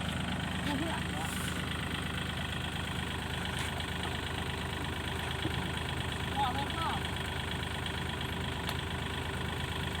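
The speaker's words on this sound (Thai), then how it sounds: "เอารถไถมาแล้วคันนึงบ้านเขารถไถหลายเว้ย" A farm tractor engine idling nearby, a steady low mechanical rumble with a constant chugging texture throughout, while people talk over it.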